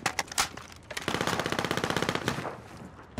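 Video game gunfire in a close-quarters fight: a few sharp single shots, then a rapid, loud automatic burst of evenly spaced rounds lasting over a second, followed by scattered trailing shots.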